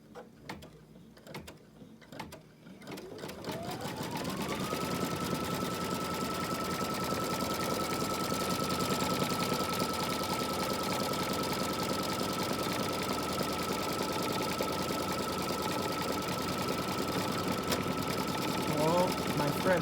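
An embroidery machine stitches an in-the-hoop stocking design, a steady fast mechanical whir and needle chatter that starts after a few seconds of quiet handling and runs loud and continuous to the end.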